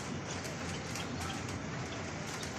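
Rain pours down steadily outside near a tall building, a dense, even hiss of drops on surfaces, fairly faint and unbroken throughout.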